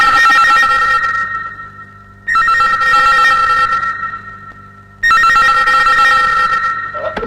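A landline telephone rings loudly indoors in long bursts of trilling bell tones, with quieter pauses between, three rings in all.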